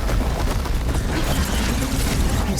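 An explosion goes off deep in a mine in the video game Horizon Forbidden West, a loud, dense, low rumble that fills the whole moment without any speech.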